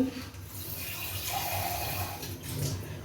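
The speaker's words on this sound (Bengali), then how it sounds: "ওই কারণে আরেকটু জল দিয়ে দিচ্ছি" Water is poured steadily into a cooking pot of pumpkin greens, potato and eggplant curry, making a continuous close splashing stream over a few seconds with no speech.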